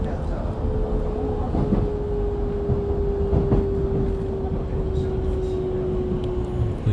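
A silver-green EMU900 electric multiple unit, a ten-car train, runs past with a loud, steady rumble and a faint whining tone, with brief rattles and clacks over the continuous roar.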